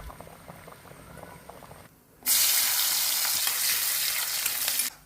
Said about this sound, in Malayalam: കറിവേപ്പിലിട്ട് കാച്ചിയത് ഇതിലേക്ക് വയ്ക്കാം